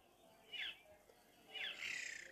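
Two short, faint bird chirps from the Roblox game Feather Family. The second call is a little longer, with a brief trill, over a quiet background.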